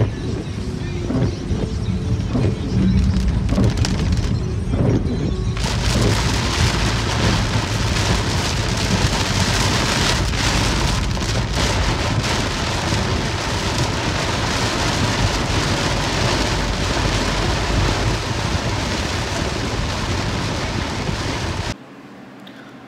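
Heavy rain pouring steadily outdoors, a dense broadband hiss that swells after a few seconds and holds loud for most of the span, with faint low rumbles that may be distant thunder.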